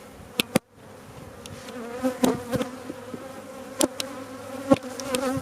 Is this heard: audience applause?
no